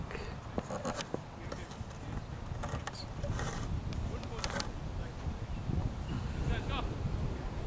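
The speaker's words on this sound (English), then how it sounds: "it's windy today" Wind blows across an outdoor cricket match, making a steady low rumble and buffeting on the microphone throughout, with faint voices in the background.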